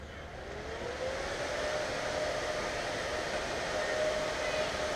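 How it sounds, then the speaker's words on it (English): Aftermarket engine cooling fans fitted to a Harley Davidson motorcycle spin up and run, making a steady, close whooshing whir with a faint rising tonal hum and no talking. "Let's turn them on."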